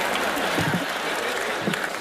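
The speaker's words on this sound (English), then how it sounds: "Give Teller a big round of applause" A studio audience at a magic competition show applauds Teller: a dense, continuous wash of clapping from a large crowd, even and sustained throughout.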